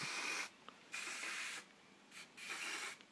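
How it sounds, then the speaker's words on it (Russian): Sandpaper rubbing over fresh paint on the front end of a BMW E28 under restoration, three close, steady hissing strokes with short pauses between them and no voices. "может быть, получится его затереть наждачкой"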